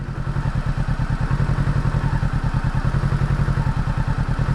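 A motorcycle engine idles in a fast, even low throb as the clutch is eased into the friction zone on a hill, steady and close with no talking.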